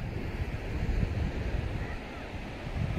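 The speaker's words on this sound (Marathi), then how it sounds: "या बाजूला सगळा समुद्र." Sea waves wash on the Shrivardhan coast in Ratnagiri, a continuous broad rumble of surf mixed with wind buffeting the microphone, loud and close, with no talk.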